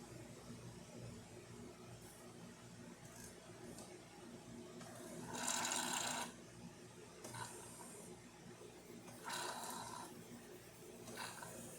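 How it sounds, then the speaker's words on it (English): A Jura E4 espresso machine starting up after standing unused, a faint low hum with bursts of pumping and hissing at intervals. "It's been standing still for a while, so it takes a while to start up."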